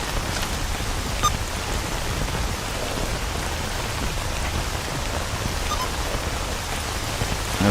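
Steady, dense rain pours in S.T.A.L.K.E.R. Anomaly, a constant broadband hiss of drops on the ground with no talk, heard close and even throughout.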